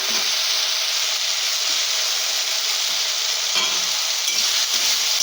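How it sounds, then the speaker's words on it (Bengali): Potatoes frying loudly in spiced oil in an Indian home kitchen, a steady dense sizzle with occasional scraping stirs, close and continuous with no talk. "দিয়ে ভালো করে এই আলুটাকে দিয়ে একটু খানিকক্ষণ আমি কষে নেব"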